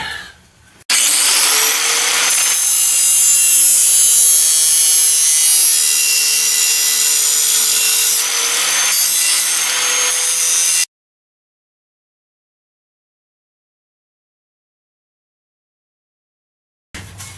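A power tool deburrs a metal floor brace for a car chassis with a loud, continuous high-pitched grinding whine lasting about ten seconds before stopping abruptly, followed by silence.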